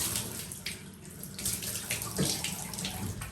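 Tap water runs steadily into a bathroom sink, a continuous splashing hiss at moderate level with small fluctuations in flow, no voices.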